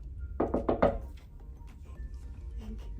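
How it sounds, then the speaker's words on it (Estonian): Four quick knocks rap on a window pane, close and fairly loud in a steady burst, followed by faint indoor background noise. "ma proovin korra, et ma koputan akna peale"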